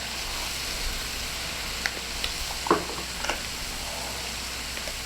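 Smoked paprika, olives and salt sizzle in a pan, with a steady soft frying hiss and a few faint stirring clicks, close and alone.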